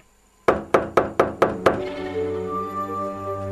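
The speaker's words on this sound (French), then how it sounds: "Alors M. Grumeau frappa la porte" Six firm knocks on a door land in an even rhythm, each a sharp close thud. A low ringing hum lingers after the last knock.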